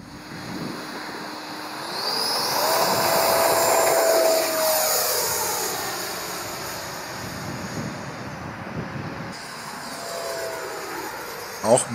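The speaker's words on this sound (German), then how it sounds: "Auch mit nur 4S Lipo und einem 64 mm Impeller geht es ganz gut nach vorne." An FMS Futura 64 RC model jet with a 64 mm electric ducted-fan impeller on a 4S LiPo, its rising whine climbing as it spools up and flies past, then fading into a steady distant hum, with a voice speaking over it.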